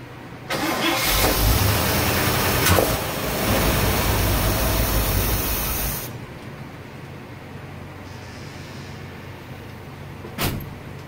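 A 1957 Chevy Nomad, abandoned for 28 years, cranks and fires on the gas left in its carburetor, running roughly for about five seconds before dying into quiet, with a single sharp knock afterward.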